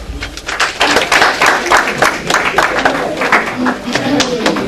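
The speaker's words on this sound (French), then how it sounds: "Mesdames et messieurs, applaudissez-vous." Audience applause fills a French-language migration and development event, a dense, steady patter of many hands clapping that holds for the whole stretch.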